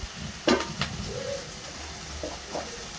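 Ingredients fry in a pan as a spoon stirs them, giving a steady soft sizzle with a few short scraping knocks scattered across the few seconds.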